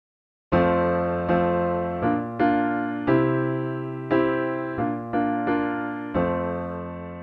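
Piano chords struck one after another in an unhurried rhythm, each ringing and decaying before the next, about ten in all, played alone.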